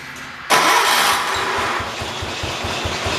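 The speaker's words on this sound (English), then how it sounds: "Let's go on ahead and try starting it" A John Deere 212 lawn tractor engine cranks and catches abruptly, then settles into a steady, loud, close idle with a rhythmic chugging pulse.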